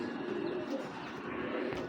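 Several long-feathered pigeons coo in a low, rolling murmur that runs the whole time, near and steady, with a few light chirps over it.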